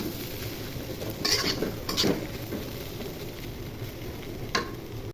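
Ridge gourd and egg fry in a pan with a steady sizzle, while a utensil stirs and scrapes against the metal in a few distinct close strokes.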